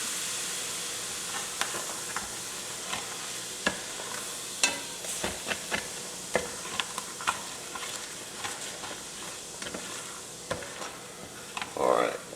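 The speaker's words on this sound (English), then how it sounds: "I like to add just a little bit of beef broth to the bottom to pull up the good stuff" A little beef broth hisses and sizzles in a hot pan, deglazing the browned bits for Salisbury steak, while a utensil taps and scrapes at a regular pace, with a brief louder burst of steam near the end.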